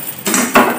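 Roasting spices such as cumin turned over in a pan, two short scraping clinks of a utensil against the metal, loud and close.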